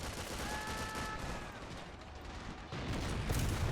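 Gunfire from the World War II strategy game Men of War Assault Squad, set during the Allied invasion of mainland Japan with tanks in combat, forms a dense, continuous roar of shots and blasts that swells louder toward the end.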